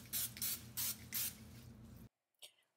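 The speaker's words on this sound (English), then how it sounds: "Grease or spray your pan with cooking spray." Four short hissing bursts of cooking spray onto a baking pan in steady rhythm, close up, followed by a brief quiet tap.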